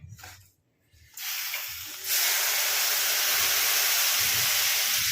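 Water poured onto semolina cooking in a pan for suji halwa sets off a sudden loud burst of steam hiss that builds and holds steady and close, after a few quieter moments of faint sizzling.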